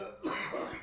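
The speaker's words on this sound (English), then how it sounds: "Dying of a cough in here." A single cough bursts out partway through, loud and close, with a rough, breathy texture in a small indoor space during a casual chat.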